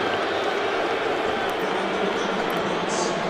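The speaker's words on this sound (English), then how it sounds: "listen to the boos" A stadium crowd at an NFL game between the Jets and Colts, a broad, steady wash of booing and noise filling the whole stretch, loud and unbroken.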